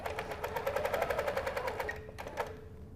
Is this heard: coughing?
no